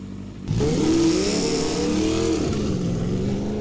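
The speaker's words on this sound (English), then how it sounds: "The light changed to green and the motorcycle started お rolling." Motorcycle engine in the video game Slow Damage pulling away from a red light, a sudden loud revving roar with rising pitch that settles into a steady drone, no voices.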